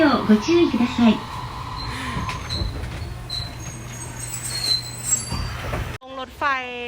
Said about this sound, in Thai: นี่เป็นรถไฟ